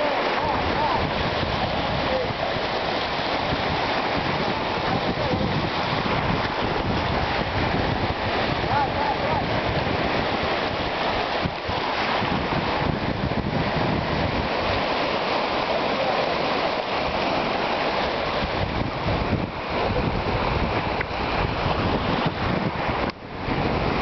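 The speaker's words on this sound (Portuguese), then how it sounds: "E a maré tá enchendo, cara." Ocean surf at Búzios as the tide rises, a steady loud wash of waves with constant wind noise on the microphone throughout, no clear breaks between waves.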